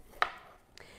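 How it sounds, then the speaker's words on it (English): A single knife chop through red capsicum on a kitchen board, a sharp close tap followed by a softer second cut, faint and brief. "All right, so we're going to do the red capsicum."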